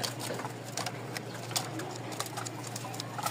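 A pair of black pigeons with white beaks coo softly and repeatedly, close by, in short murmuring bursts without talk.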